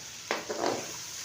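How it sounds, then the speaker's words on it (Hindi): Crushed garlic and ginger fry briefly in a pan for radish (mooli) bhujiya, giving a couple of short, soft sizzling bursts with a little stirring before the sound settles back to a quiet hiss. "अब हम इसमें डालेंगे लहसुन अदरक कुटा हुआ। 15 से 20 सेकंड तक इसकी भुनाई करेंगे।"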